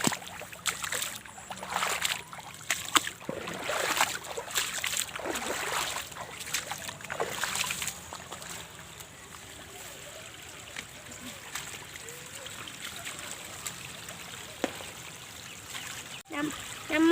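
A small stream gurgles and trickles quietly nearby while someone talks over it at first; splashy, uneven water sounds fade to a soft steady flow before a brief louder splash near the end.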